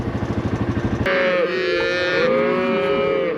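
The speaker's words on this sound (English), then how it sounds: "I still got cattle right here on my side." Cattle on a South Dakota ranch, a pulsing rumble of movement followed by a loud, close drawn-out moo with a second lowing call overlapping near the end.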